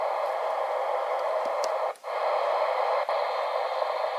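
Steady hiss of static pours from a Ranger RCI 2970 amateur radio tuned in USB mode, a loud, even wash of noise with a couple of brief dips and faint ticks, no voices.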